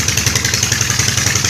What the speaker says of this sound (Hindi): ये पीटर इंजन चल रहा है बेल्ट के ज़रिए।